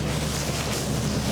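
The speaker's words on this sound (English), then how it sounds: "A bit windy." Steady wind buffets the microphone at a boatyard where a sailboat is under refit, a continuous broadband rush with no pauses and no voices.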